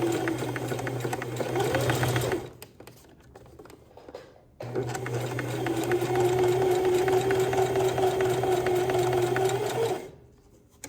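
A domestic sewing machine runs topstitching on a kids' multipurpose pouch in two steady bursts of fast, even whirring, close and loud, with a short pause between them and no talk.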